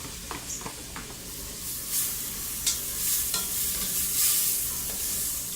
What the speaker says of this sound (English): Saute onions, garlic, herbs, spices